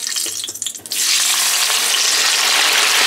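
Pumpkin pancake batter hits a hot pan and starts a loud, steady sizzle up close, after a few soft clattering kitchen sounds at the start.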